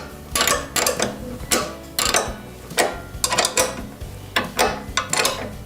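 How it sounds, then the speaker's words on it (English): A 13mm spanner tightens lock nuts on an S40C handlebar, giving close, repeated metallic clicks and ratcheting bursts in an uneven rhythm. "And then we can tighten up the lock nuts with a 13mm spanner."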